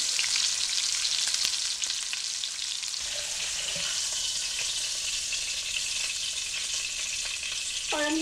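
A pot roast sears in a hot pan for a Mississippi-style crockpot recipe, giving a steady, close sizzle and crackle throughout with no talking.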